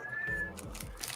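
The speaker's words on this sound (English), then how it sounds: "I'm hearing cats." A pet cat meows indoors in the background of a home video call, a short single call, faint and distant, with no talking over it.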